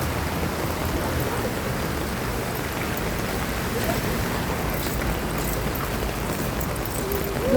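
Steady, dense rain in Saudi Arabia hissing without a break, a constant wash of noise from start to finish.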